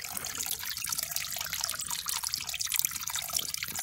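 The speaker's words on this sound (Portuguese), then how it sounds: "A água sai da parede e escorre, ó." Spring water trickles from a wall and runs down, a close, steady stream of splashing and dribbling with fine bubbly detail and no talk.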